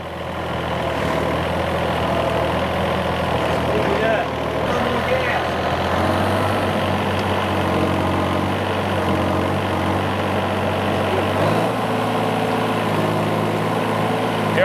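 A flood-damaged excavator's diesel engine runs loud and close, stepping up in pitch twice as the throttle opens, with occasional voices under the engine drone.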